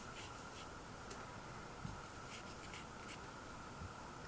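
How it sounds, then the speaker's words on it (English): A pencil sketching small, quick drawings on paper gives a faint, steady scratching with light strokes throughout, close and quiet with no talking. "So right here, I'm just drawing very itty-bitty sketches."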